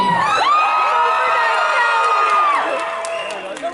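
A large anime convention crowd at an opening ceremony screams and cheers loudly and continuously, with high whoops and shrieks layered over a dense roar that fades slightly toward the end.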